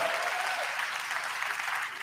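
Comedy club audience clapping at a Dave Chappelle stand-up set, a steady, full round of applause that fades slightly near the end.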